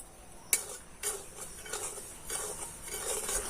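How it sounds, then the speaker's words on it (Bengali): A spatula stirs dry semolina in a wok, making soft scraping, rasping strokes in a loose rhythm, with a sharp clack at the start and a faint sizzle beneath. "দিয়ে একটু হালকা নেড়ে চেড়ে নেব।"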